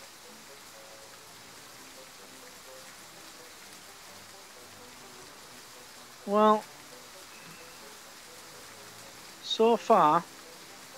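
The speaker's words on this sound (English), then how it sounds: "I'm sure that rain's getting heavier." Steady heavy rain in the video game Catch & Release hisses continuously throughout, with a couple of short bursts of someone talking over it.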